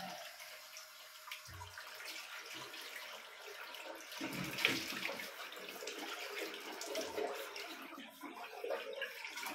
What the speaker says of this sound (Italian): mi sciacquo un attimo il viso